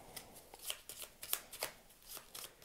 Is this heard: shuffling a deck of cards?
yes